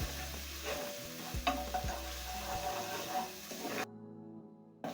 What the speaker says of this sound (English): Stir in the garlic and ginger and cook until fragrant.